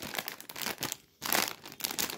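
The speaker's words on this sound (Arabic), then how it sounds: "نفتح تاني كيس ونقول بسم الله الرحمن الرحيم" A plastic bag of Joker chocolate biscuit snacks is torn open and crinkled close by, in quiet bursts of rustling and tearing with a short pause midway.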